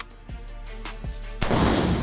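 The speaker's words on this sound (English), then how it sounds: "We'll demonstrate this thing firing in the unsuppressed mode." Unsuppressed rifle fitted with a Griffin adjustable gas block firing a few sharp, spaced shots outdoors, each a quick crack, followed by a louder burst of noise at the end.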